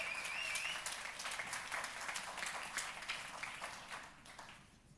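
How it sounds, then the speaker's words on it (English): Audience applause at a Microsoft Lumia 830 press briefing, steady and moderately distant, holding for several seconds before tapering off toward the end, with no talking over it. "You can clap, absolutely."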